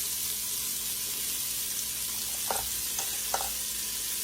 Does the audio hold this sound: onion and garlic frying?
yes